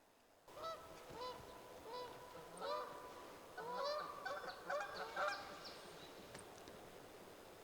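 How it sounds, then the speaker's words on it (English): Several geese honk loudly and repeatedly in an agitated, overlapping squabble, close by, with harsh calls bursting out in irregular clusters. "Now these geese are fighting."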